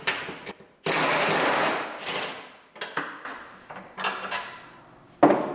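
Metallic clanks, ratcheting bursts and sharp knocks come from removing seat bolts inside a Jeep, in irregular close bursts with short pauses between them.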